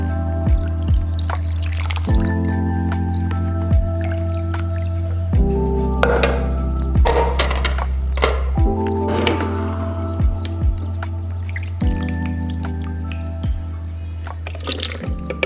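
Coconut milk trickles and drips from a Kuvings Auto 10 juicer as fresh coconut is pressed, wet squishing and dripping sounds coming close and steady over a low motor hum, with occasional sharper plops.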